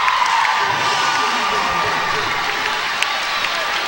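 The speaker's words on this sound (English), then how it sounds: "Crowd roars its appreciation for the effort there." A crowd at a 2006 NU Lady Miner versus McClatchy Lady Lions high school girls' basketball game roars and cheers loudly and steadily after a layup, with scattered whoops over the din.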